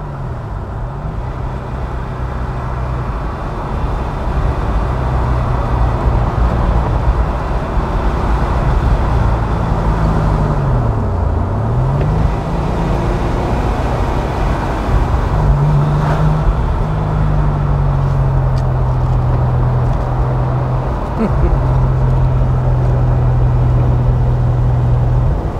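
A 1996 Porsche 993 Carrera 4 Cabriolet in dark blue metallic, driven fast, gives a loud, continuous engine drone. Its pitch rises and falls with shifts and throttle over steady road and wind noise.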